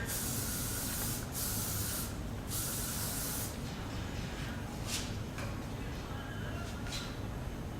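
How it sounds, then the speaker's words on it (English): Sheer hair lacquer sprayed onto styled hair to add texture, heard as several short, close aerosol bursts with brief pauses between them over steady room noise. "Add some more texture with the sheer lacquer"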